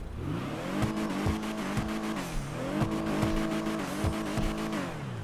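Engine of a Chop Shop DLC car in GTA 5 Online revving up and down in repeated pulls, with tire squeal and skidding, loud and close with no talk.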